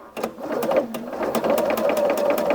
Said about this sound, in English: So all I'm going to do is go ahead and start stitching just a little bit.